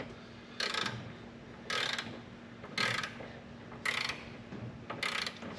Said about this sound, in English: then we'll go ahead and torque these down to 70 foot-pounds